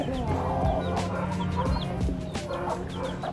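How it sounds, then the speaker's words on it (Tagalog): Several chickens kept in the USA for shipping to the Philippines cluck and chatter close by, overlapping continuously with busy background noise and occasional other bird calls. "May mga manok siya."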